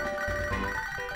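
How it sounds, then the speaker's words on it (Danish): A phone rings in the Pokémon HeartGold game, a bright electronic ringtone with steady tonal bleeps repeating over a low hum of game music. "nu ringer ens mor til en"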